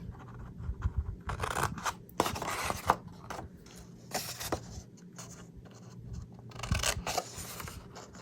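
Scissors snipping paper corners to make a card template, a series of close, crisp cuts and rustles spread unevenly through a quiet room.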